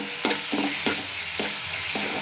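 Tomato frying in oil in a pan, stirred with a utensil in a steady sizzle, with five distinct scraping strokes at regular intervals, close and fairly loud.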